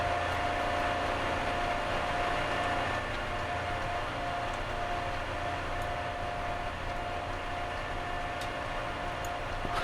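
A train in Train Simulator 2017 runs at speed, giving a steady low rumble and hum with faint rhythmic ticking of wheels over rail joints, fairly quiet and unbroken throughout.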